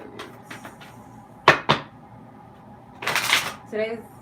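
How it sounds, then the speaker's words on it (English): Romance Angels Oracle cards are handled and shuffled in a few quick riffling bursts and snaps, separated by quiet gaps, with a brief voice at the end. "I'm going to use the Romance Angels Oracle cards"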